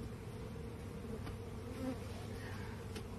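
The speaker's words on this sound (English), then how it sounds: "This is a queen from a primary swarm that I rescued today." Honeybee swarm buzzing around a rescued queen from a primary swarm, a continuous low droning hum from many bees, fairly quiet and steady with no talk.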